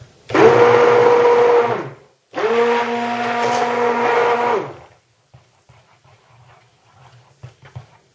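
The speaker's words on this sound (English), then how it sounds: "my blender's making more noise" A blender whirs loudly in two long bursts separated by a brief pause, then cuts off, leaving faint clatter; the blender gets louder the thicker the mixture.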